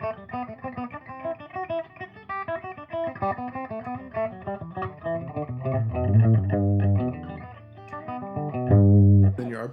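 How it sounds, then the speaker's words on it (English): A saxophone runs through a major scale in thirds, each note clear and separate in a steady stepwise pattern, growing fuller and louder toward the end and played alone. "And then this, the scale and thirds for your major."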